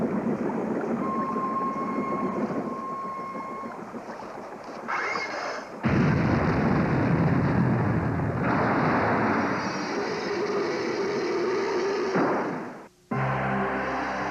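A train rumbles through a dramatized wartime commando scene of a bridge about to be blown up, a steady loud low roar of rail noise under music and effects, cutting out abruptly near the end.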